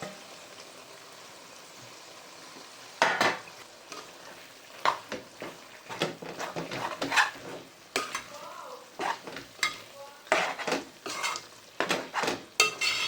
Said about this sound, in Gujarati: સરખી રીતે મિક્સ કરી નાખવાનું થોડો ગેસ કરવાનો ફાસ્ટ